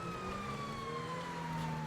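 A GTA Online Vermont State Police Crown Victoria sounds its siren, a steady, loud, gradually falling wail over a low engine drone, heard alone with no voices.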